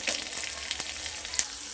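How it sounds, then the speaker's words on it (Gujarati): Mustard seeds and green chilies sizzle in hot oil during tempering for vati dal khaman, a soft, steady frying hiss punctuated by a few sharp pops and crackles. "તેલ સરસ ગરમ થઈ ગયું છે। હવે આમાં આપણે રાઈ ઉમેરીશું।"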